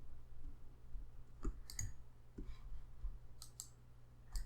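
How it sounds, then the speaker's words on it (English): A computer mouse clicking in several sharp, close, distinct clicks spaced irregularly over a few seconds in a quiet room. "I will go ahead and just click right here, zoom in, right click"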